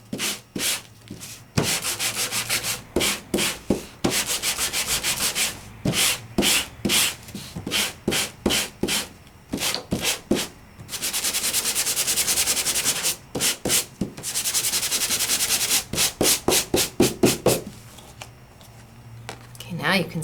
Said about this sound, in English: Now I could sand this and start bringing that embossing up so you can see it better.